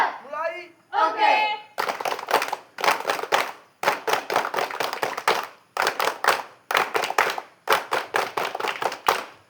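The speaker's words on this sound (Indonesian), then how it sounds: "Dua kali tepuk pramuka, siapkan." A scout group performs the rhythmic Pramuka clap, several bursts of patterned, crisp group clapping in quick syncopated runs separated by short pauses, preceded by a brief spoken command.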